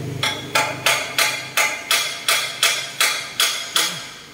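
Metal tapping on a part of an old Noda engine: nine loud, evenly spaced hammer strikes about half a second apart, close and ringing, with no voices.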